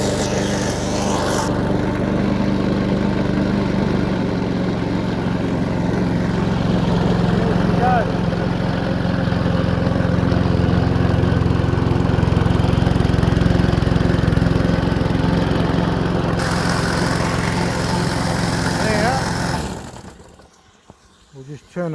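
A lawn mower engine with a water hose plugged into its deck starts and runs at a steady loud drone for about twenty seconds, then cuts off abruptly; a voice is faintly present.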